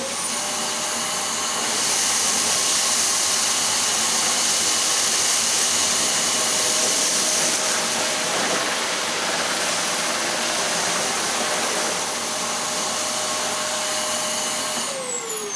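A Wellco CV16 vacuum cleaner runs loud and close with a steady high whine and airy roar, its tone shifting slightly as the nozzle is pushed forward and pulled back across the floor.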